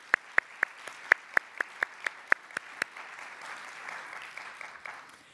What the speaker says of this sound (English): Please acknowledge their service with a round of applause